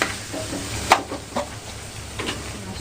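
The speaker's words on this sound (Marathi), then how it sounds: "चमच्याने व्यवस्थित हे सगळे मसाले मी मिक्स करून घेणार आहे" A spoon scraping and stirring chili powder and turmeric in a pan, a few soft scrapes and clicks over a low steady sizzle-like hiss, with no talking.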